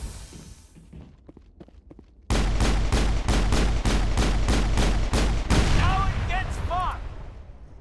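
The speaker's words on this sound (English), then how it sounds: "I can just shoot around them." Gunfire in the video game Mass Effect: a rapid burst of repeated shots, loud and close, after quieter footsteps and faint game sounds, with electronic weapon and shield effects trailing off at the end.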